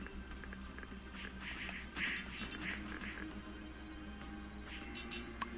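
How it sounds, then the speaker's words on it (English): Crickets chirp at dusk in a steady, quiet outdoor backdrop, with short repeated high chirps standing out over a soft continuous insect drone. "Are those crickets chirping?"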